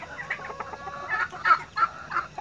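Chickens cluck close by in short, irregular bursts, a few sharper squawks standing out among the steady chatter, in a mixed flock with ducks and geese.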